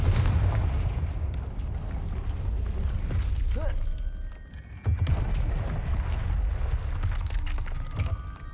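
The Confringo blasting spell goes off in the game Hogwarts Legacy with a heavy blast and crackling debris, set against a rumbling battle din, then a second sharp impact follows a few seconds later.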